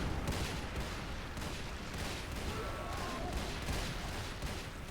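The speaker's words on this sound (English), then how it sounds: "it's just a minigun with a bit more range" Rapid, continuous minigun fire from a StarCraft 2 arcade game forms a dense, unbroken roar of automatic shots and impacts that holds steady throughout.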